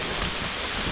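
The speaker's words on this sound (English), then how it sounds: "Started to rain on me on the way over to this last property." Steady outdoor rain pattering on surfaces along a rural route, a dense, even hiss with no voices, ending in a brief thump.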